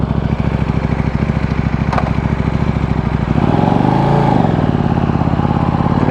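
A KTM motorcycle without electronics runs steadily nearby, its engine thrumming in a dense low pulse that rises in pitch and revs up partway through.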